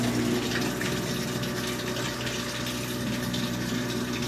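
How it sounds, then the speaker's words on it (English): Water rushes steadily into a Whirlpool washing machine during its wash cycle, a continuous loud hiss of filling with a low mechanical hum underneath. "We got water going in"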